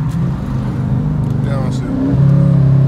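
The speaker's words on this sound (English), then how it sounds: "Let me watch some downshift real quick for you guys." Dodge Challenger R/T engine revving through a downshift while driving, a steady low rumble that rises and swells to a louder, deeper growl near the end, heard close from inside the car.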